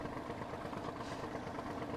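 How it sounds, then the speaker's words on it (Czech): A heavy truck engine in the video game SnowRunner, choking and laboring. It gives a steady, continuous low drone with a rough mid-range rumble, and no voices are heard. "Proč se motor dusí?"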